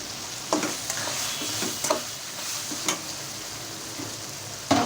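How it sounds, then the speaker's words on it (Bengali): Bitter gourd with green chilies sizzles steadily in a pan while a spatula scrapes and stirs in irregular strokes, close and clear. "এখন এটা একটু কষানো হোক।"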